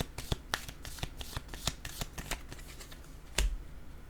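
Playing cards are shuffled close up, with a run of quick crisp riffles and flicks followed by a sharper snap of cards near the end.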